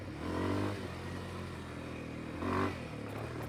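A Kawasaki KLX230R four-stroke dirt bike engine pulls in second gear, rising in two short bursts of grunt with a steady engine drone between them and no talk.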